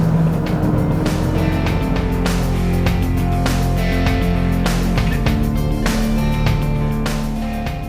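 A 2016 McLaren 570S sports car drives at speed, its engine note a steady, loud drone with rising and falling harmonics as it pulls along the road, close and continuous throughout.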